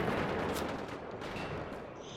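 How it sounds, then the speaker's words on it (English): MG42 machine gun firing in Wolfenstein: The Old Blood, a dense, sustained burst of automatic gunfire that stays loud and steady from start to finish, with no voices. "I'm going to kill these guys until I run out of MG42 bullets"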